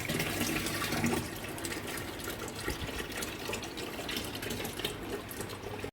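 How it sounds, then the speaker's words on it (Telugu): A steady stream of water pours and splashes into the tank of an 80-litre Symphony air cooler, a continuous close rushing sound with no voices. "ఇక్కడ నేను వాటర్ ఫిల్ చేస్తున్నా లోపలికి"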